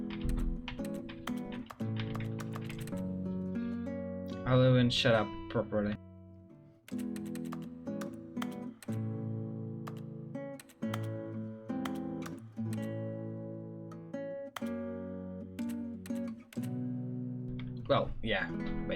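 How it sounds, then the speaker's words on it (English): Echoing keyboard typing clicks from The Stanley Parable video game tap out in scattered bursts beneath game music, with a person talking over them. "Keyboard ASMR."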